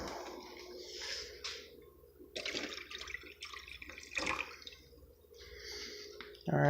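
Filtered water trickles and splashes as it is poured into a coffee maker for Cuban coffee, a soft, steady liquid sound running through most of the stretch with no one speaking.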